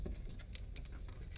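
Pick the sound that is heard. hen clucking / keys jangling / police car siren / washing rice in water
keys jangling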